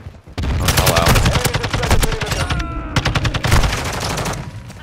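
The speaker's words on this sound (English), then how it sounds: "Why is it that hard for this gun to shoot?" Rapid bursts of automatic gunfire from a weapon in the Call of Duty: Modern Warfare II video game, loud and nearly continuous with brief gaps, mixing sharp repeated cracks.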